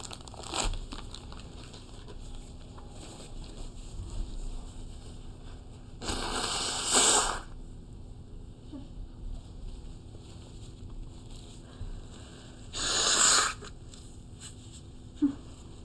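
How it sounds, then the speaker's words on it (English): Someone blows their nose twice, each a short, airy, rushing honk several seconds apart, close to the microphone over a steady low background hiss. "Give me 2 seconds to blow my nose."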